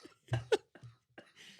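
A person coughs a few times, short chesty bursts with liquid in the chest, the two strongest coughs close together followed by softer hacks and breathy throat sounds.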